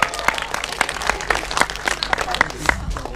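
Applause from a small group greeting the girls at a YouTuber meet-up, with scattered individual claps standing out and a murmur of voices underneath, fairly close and steady.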